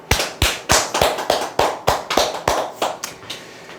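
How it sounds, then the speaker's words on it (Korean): Clapping at an insurance telemarketing sales coaching seminar: about a dozen sharp, evenly spaced claps in a steady rhythm, close and fairly loud, with no talking over them. "박수 한번 치시죠."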